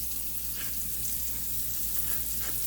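Breakfast food browning and crisping in a pan gives off a steady, even sizzle of frying with a low hum underneath, with no talking.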